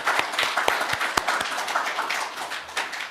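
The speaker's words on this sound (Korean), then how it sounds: "우리 감사합니다. 박수합시다." A small church congregation claps during a Christmas Sunday worship service, a sparse scattering of separate, close hand claps over a soft murmur, fairly even and brief.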